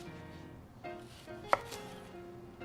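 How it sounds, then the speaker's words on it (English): A knife trims the ends off an onion on a cutting board, giving a single sharp, close chop with a few softer taps and faint rustling around it, and no talking. "I want to take advantage of the natural layers of the onion to help me. So I'm going to trim off both ends"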